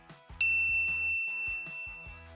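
A single bright notification bell ding rings out clearly over a soft, rhythmic music bed, then fades away slowly.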